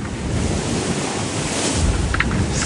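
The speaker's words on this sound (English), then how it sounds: "Pretty big waves here." Big ocean waves surge and wash around a racing sailboat on the Sydney to Hobart race, a steady loud roar of surf under gusting wind buffeting the microphone, with no voices.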